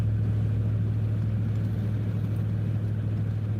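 A car drives along a road taking a curve on worn old tires, its engine and road noise forming a steady, close low rumble throughout with no talking.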